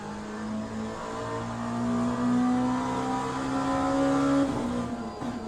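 Race car engine in the AMS2 sim racing game, a steady loud drone whose pitch climbs slowly as the car accelerates, then drops off near the end as the revs fall.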